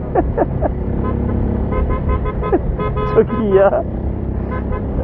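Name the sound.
car horn honking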